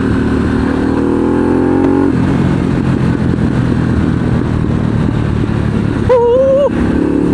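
Riding a 2023 Harley-Davidson Pan America Special motorcycle: a loud, steady engine drone with wind rush, one gear change early on, and a brief tonal whistle near the end.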